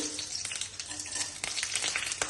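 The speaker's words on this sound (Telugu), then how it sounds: "తాలింపు గింజలు వేసుకుంటున్నాం" Tempering seeds, cumin, mustard, chana dal and urad dal, fry in hot oil. Close, busy sizzling is scattered with quick crackling pops throughout.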